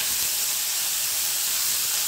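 Urad dal and mustard seeds sizzling in hot oil for a quick semolina dosa, a steady loud crackling hiss that holds evenly throughout without any voices.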